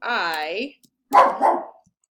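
A dog barks twice nearby, a higher yelping bark followed by a lower, rougher double bark, with brief silence between.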